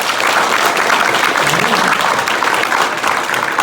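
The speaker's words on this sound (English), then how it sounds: "For the men's division, contestant number 1 by round of applause." A school after-prom hypnotist show audience claps for a contestant, a loud, even wash of applause with faint voices mixed in.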